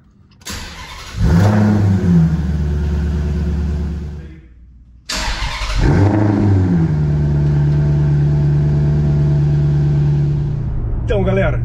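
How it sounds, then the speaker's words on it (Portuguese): A Ferrari's naturally aspirated V8 cranks and catches with a loud roar, then falls quiet for a moment. It fires again and settles into a deep, steady, rumbling idle close to the microphone. "compartilhar com vocês o barulho do carro ligando, né, desse V8 aspirado."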